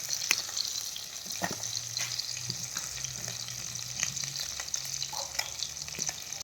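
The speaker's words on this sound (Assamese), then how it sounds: "বজাৰৰ পৰা বৰলীয়া মাছ আনিলোঁ, ফ্ৰাই কৰি আছোঁ।" Boroliya fish frying in hot oil in a home kitchen, a steady, soft sizzle running throughout with occasional light clinks and stirs, heard alone.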